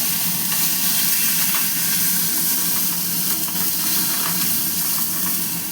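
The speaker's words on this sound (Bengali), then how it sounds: "ধনের গুঁড়ো, জিরের গুঁড়ো দিয়ে আগে একটু নাড়িয়ে নিই।" Ground coriander and cumin being stirred in a hot pan, a continuous loud hiss and sizzle that holds steady throughout with faint scraping underneath, no voices.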